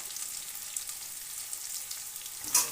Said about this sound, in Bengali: আলু ও কুমড়ো 3-4 মিনিট নেড়ে নিলাম।